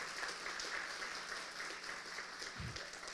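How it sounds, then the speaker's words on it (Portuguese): A church congregation claps together at a Seventh-day Adventist service, steady dense applause filling the space throughout at an even level. "Vamos dar uma salva de palmas aí, gente, bem forte."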